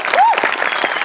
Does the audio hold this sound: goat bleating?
no